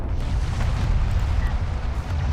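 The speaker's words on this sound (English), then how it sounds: "And I see the nuke firing too." A nuke fires in the real-time strategy game Homeworld: Deserts of Kharak as a deep, sustained roaring rumble, continuous and loud throughout with no separate blasts.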